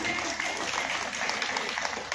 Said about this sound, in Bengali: জোরে হাততালি হয়ে যাক।